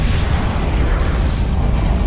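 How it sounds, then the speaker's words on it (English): Supernova explosion sound effect: a loud, sustained deep rumbling boom that fills the whole stretch with a dense, roaring low-end blast. "A supernova is the colossal explosion of a star at the end of its life."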